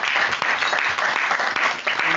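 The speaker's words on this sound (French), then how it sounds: "Je pense qu'on peut l'applaudir." A seminar audience applauds its coordinator at a December 2018 gathering, giving a dense, steady burst of clapping from many hands that fills the room without pause.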